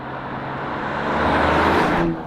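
Six-cylinder engine of a BMW X5 40i while driving, a steady broadband hum with low tonal drone that swells slightly midway, then the sound cuts off abruptly near the end; no talking.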